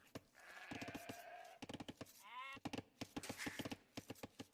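Sheep bleating in a real-time strategy video game, several wavering bleats repeating among clicky tapping and hoof-like sounds, moderately close and fairly quiet.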